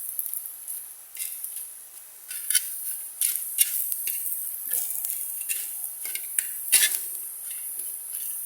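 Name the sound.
french fries cooking and stirred in a pan without oil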